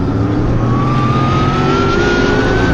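TA2 race cars at Morgan Park brake hard into the turn 2 braking zone, their engines a loud, continuous near roar with a rising mechanical whine sustained throughout.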